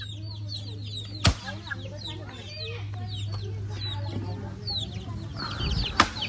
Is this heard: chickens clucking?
yes